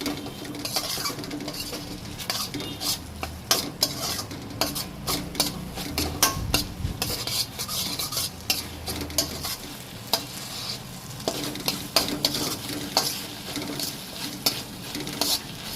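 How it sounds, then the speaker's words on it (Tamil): Fried egg being stirred into a spicy Indian-style egg pasta sauce in a pan, with a steady sizzle under repeated close scraping and clinking of a utensil against the pan, no voices. "நல்லா கிளறி விட்டுக்கோங்க"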